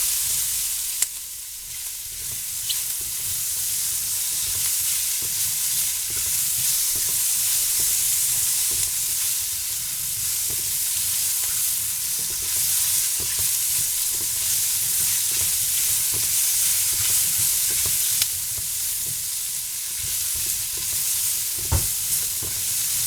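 Squash stir-frying in a hot pan, a steady loud sizzle and hiss with faint scrapes of stirring throughout, close up and without talk.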